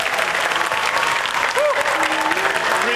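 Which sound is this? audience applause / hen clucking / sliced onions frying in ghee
audience applause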